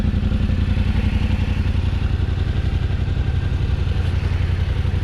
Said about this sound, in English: gonna take the bike for a test drive